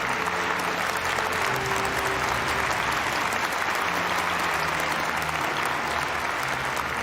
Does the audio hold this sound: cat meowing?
no